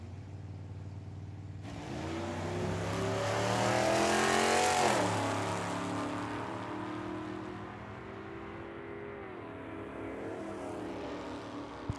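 At Tucson Dragway, a 2020 Chevy Camaro and a 1974 Duster launch from the line. Loud engines rev and climb in pitch, peak, then drop and settle into a sustained roar heard from trackside.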